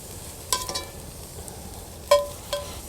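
Brussels sprouts, trimmed at the root, tumble into a dry pan over a campfire with no oil or seasoning: a few short clattering knocks in scattered bursts against a quiet outdoor background, no voices.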